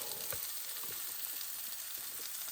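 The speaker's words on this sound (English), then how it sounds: "we're going to go ahead and put in our onions and peppers" Onions and peppers sizzle steadily in a pan alongside browned potatoes at a Christmas Eve campsite, a dense, continuous frying hiss close by with faint stirring scrapes and no talking.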